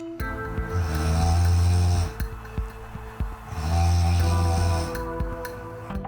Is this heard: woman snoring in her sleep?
yes